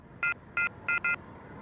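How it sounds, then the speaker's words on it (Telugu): Telephone keypad tones beep four times as a number is dialed, short even-pitched beeps with the last two in quick succession, crisp and isolated over faint background hiss. "ఇంకో నెంబర్ చేస్తానుండు"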